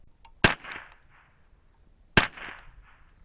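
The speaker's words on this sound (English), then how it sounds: "The first group fouling shots." Two rifle shots of Federal Gold Medal 711B match ammunition fired at a range as fouling shots, each a sharp loud crack followed by a brief decaying echo, spaced about two seconds apart, with no voices.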